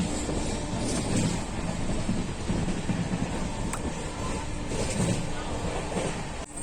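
Steady low rumble of a moving passenger train to Tarapith, West Bengal, heard from inside a carriage, a continuous muffled drone with faint rattles and no voices.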